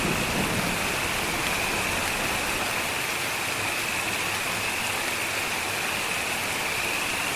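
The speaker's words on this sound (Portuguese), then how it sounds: "Gotas pesadas caem sobre o solo árido, penetrando profundamente nas fissuras irregulares da terra" Heavy raindrops fall on dry, sun-baked, cracked prairie ground during the season's first rain, a dense, steady hiss that stays even and loud throughout with no voices.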